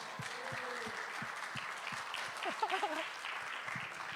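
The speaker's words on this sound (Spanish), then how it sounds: "Vamos a dar un aplauso fuerte a los de producción." A church crowd applauding for the production team, steady clapping at moderate distance with voices mixed in.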